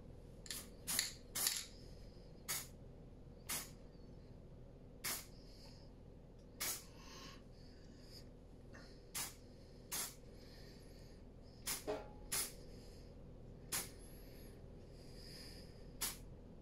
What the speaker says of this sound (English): just trying to go lightly with a rattle can. Not as easy as an airbrush to control the spray